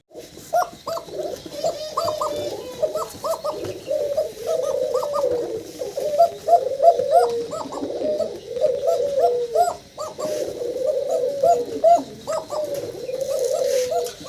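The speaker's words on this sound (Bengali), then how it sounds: "মানে পুরা ভিডিওতে যে ককার ডাক শুনছেন আপনারা, সেই ককাই হচ্ছে এইটা।" A male pigeon coos close by in repeated rhythmic bursts of low throaty rolling calls, with brief pauses between phrases.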